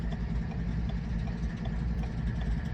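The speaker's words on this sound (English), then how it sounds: "The Pennsylvania Heritage Unit is idling." A Pennsylvania Railroad heritage unit diesel locomotive idles at dawn, a steady low rumbling drone with even mechanical texture and no change in pace, heard alone without voices.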